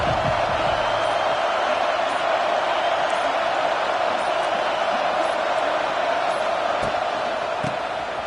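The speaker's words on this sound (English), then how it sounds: "This crowd ready to make its presence known." A stadium crowd at an Alabama versus Georgia college football game roars in a steady, loud, continuous wash of noise that fills the whole stretch, with no one speaking over it.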